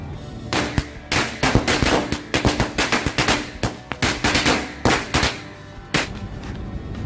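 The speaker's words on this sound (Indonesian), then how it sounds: "sore ini kita menyalakan mercon korek smoke mini stick SMS 2 pak sekaligus guys" Mercon korek smoke mini stick firecrackers, two packs lit at once, pop in a rapid irregular string of sharp cracks that goes on for several seconds, close and loud, then thins out to a few last bangs.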